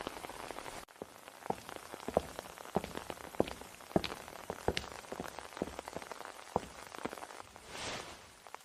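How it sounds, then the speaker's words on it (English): Rain falls steadily outdoors, with a soft wash of droplets and scattered sharper splats and taps on nearby surfaces, fairly quiet and with no talking. "I can just wait for the rain to let up and walk by myself."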